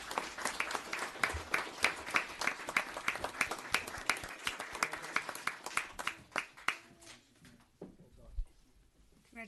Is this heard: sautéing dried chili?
no